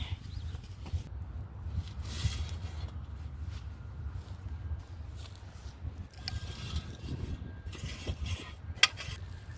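Potting soil being mixed in a grow bag for carrot seeds, producing steady low scraping, rustling and clicking through the whole stretch, fairly quiet and close with no voices.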